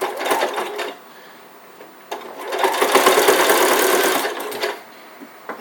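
Domestic sewing machine running a decorative stitch around the seam of a fabric elf hat, a steady close whirring stitch in two bursts, the longer one in the middle, with brief pauses between.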